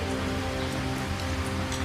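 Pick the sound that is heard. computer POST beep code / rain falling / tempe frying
rain falling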